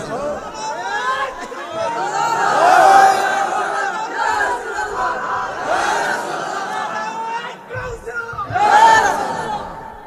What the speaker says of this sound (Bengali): স্লোগান দেন।